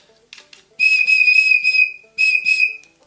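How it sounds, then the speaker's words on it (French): Whistle ring for a Silverlit DigiBirds robot bird toy: two clear, loud whistle blasts, the first longer with slight warbling, the second shorter, preceded by faint soft taps. "le petit sifflet, la bague sifflet, qui nous permet donc de l'activer, de le faire chanter"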